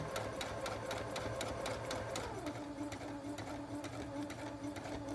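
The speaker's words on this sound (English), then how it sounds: "just get your sewing machine out" A sewing machine runs steadily, its needle stitching in a fast, even mechanical rhythm with a low motor hum, close by and continuous.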